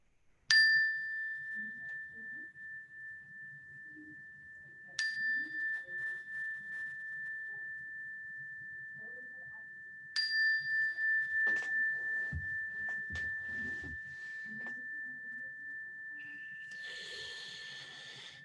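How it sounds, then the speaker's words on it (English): A clear mindfulness bell is struck three times at even intervals, each ring sustaining a long, pure tone that slowly fades in a quiet room. "Listen to the sound of the bell until you can't hear it any longer"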